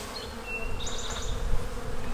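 Honeybees buzz steadily around beehive frames during an inspection of hatching brood, a dense continuous hum with close passing buzzes and no talk.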